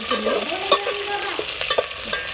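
Green chillies stir and fry in a hot pan, a soft continuous sizzle broken by several sharp scrapes of a spoon against the metal, close and alone.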